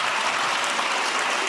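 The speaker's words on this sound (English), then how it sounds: "Please give them a round of applause." An audience at a live keynote event applauds steadily, a dense even patter of clapping that holds at a moderate level throughout without voices.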